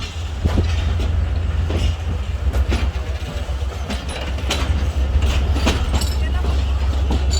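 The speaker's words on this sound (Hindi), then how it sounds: "6:30 बजे गाड़ी अपनी मंजिल की तरफ जा रही है" The Allama Iqbal Express passenger train departs Karachi Cantt station, a loud, close, continuous low rumble broken by rhythmic clacks of wheels over rail joints as the coaches roll past.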